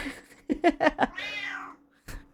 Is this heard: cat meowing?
yes